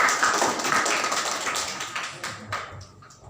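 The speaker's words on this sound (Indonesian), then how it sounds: "kita beri aplaus ke kelompok 4" Classroom applause for a student group after a presentation, a short burst of quick claps that fades out over a few seconds.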